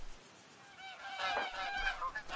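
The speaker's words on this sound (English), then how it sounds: "I got a really nice size flock of geese coming in right now." Flock of geese in the hunting video game The Hunter: Call of the Wild, honking in a flurry of overlapping calls that swell as they draw nearer, over quiet ambient wind.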